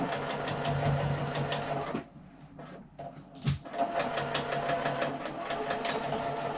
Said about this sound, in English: we're going to be sewing over that strap as we make this joining seam.